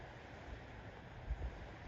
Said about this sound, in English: Waves, reflective waves.